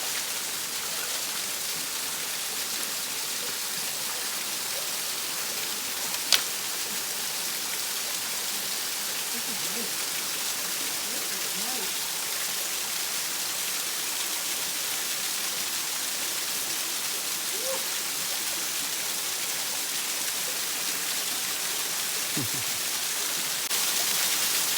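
A waterfall on Nevis gives a steady, even rush of falling water that fills the whole scene. The sound is continuous and fairly close, with one sharp tap near the start.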